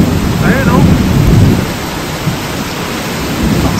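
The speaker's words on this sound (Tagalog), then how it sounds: "lakas din ang kulog sa akidlan." Deep thunder rumbles loudly over heavy rain falling on surfaces, the rumble swelling in the first second and a half before easing back into steady downpour.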